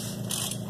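Chevy 350 short block engine turned by hand with a ratchet, a short burst of close mechanical clicking with no talking.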